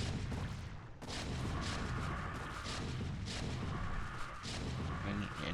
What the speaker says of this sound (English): these tanks are gonna tear these Hydras apart